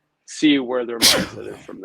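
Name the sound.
sneeze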